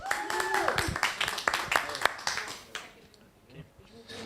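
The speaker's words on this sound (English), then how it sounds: "So please welcome with applause Pierre Corbin." Audience at an evening Bitcoin meetup clapping to welcome a speaker, with sharp overlapping claps under a talking voice that taper off, leaving quieter murmurs.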